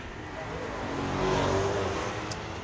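A 2025 Corvette runs at a street-legal drag racing night at Mission Raceway: a steady, broad engine roar that swells slightly, heard from a distance.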